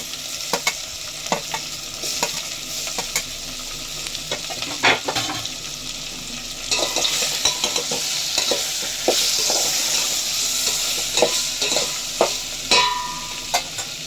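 Vegetables and tomatoes fry in oil with salt, a continuous sizzle punctuated by sharp scrapes and knocks of a spoon stirring the pan, the frying swelling louder partway through, with no talking.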